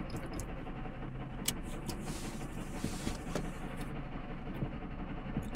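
A 1999 Subaru Outback engine runs steadily with a rubbing noise from the front of the motor, a continuous close mechanical rumble broken by faint ticks and scrapes, with no talking.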